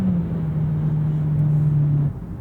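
2025 Acura ADX A-Spec Advance with a CVT accelerating, a steady droning engine hum inside the cabin that holds one pitch for about two seconds and then eases off, with no talk.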